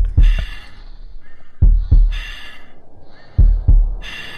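Heavy breathing in the Exmortis horror game: loud, close paired gasping breaths repeated three times in a slow rhythm, each pair of sharp intakes followed by long airy exhales, with a thudding heartbeat-like pulse.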